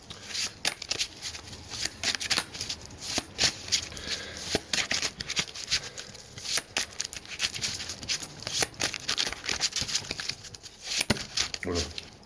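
Tarot cards being shuffled by hand, a steady run of crisp riffling and flicking bursts with brief pauses, close and fairly quiet, with no talk over it.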